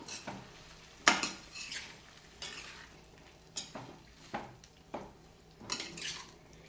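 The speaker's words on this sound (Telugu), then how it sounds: "ఇప్పుడు టమాటాలను యాడ్ చేసుకుందాము ఒకసారి ఇవన్నీ మిక్స్ అయ్యేలాగా కలుపుకుందాము" Tomatoes being stirred into an onion mixture in a pan for a home-style curry, a spoon scraping and clinking against the metal in irregular strokes about once a second over a faint background sizzle.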